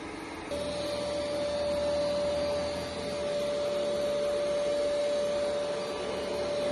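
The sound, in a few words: ECOVACS X8 Pro Omni robot vacuum running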